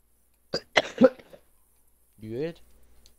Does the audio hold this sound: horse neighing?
no